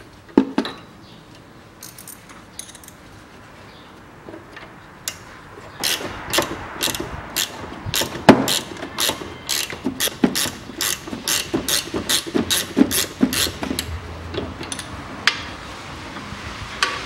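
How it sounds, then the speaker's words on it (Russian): A ratchet wrench loosens a bolt on the rear strut of a 2004 Toyota Harrier, giving a rapid run of sharp metallic clicks in bursts, close and fairly loud, with a few clanks of tools before it starts. "берем ключик на 14 и откручиваем"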